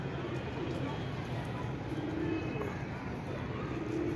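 A weaver pigeon coos faintly and steadily, half-buried in a broad wash of outdoor noise, with no distinct voices rising above it.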